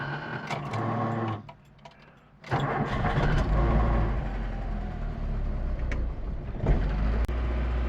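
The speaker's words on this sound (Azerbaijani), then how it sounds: "İndi isə maşınımızı kodlayırıq." A VAZ 99 car with a cold engine cranks and then catches, settling into a loud, steady idle that carries on close by with no talk over it.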